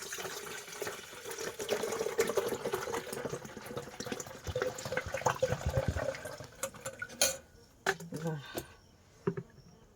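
Water pours and splashes into a pot of fresh milk for several seconds, close by, under a soft background hum, followed by a few brief clatters.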